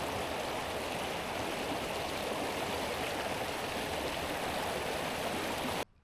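A flowing river at a crossing in the Scottish Highlands between Braemar and Kingussie, a loud, steady rush of water close by that holds even throughout before cutting off abruptly near the end.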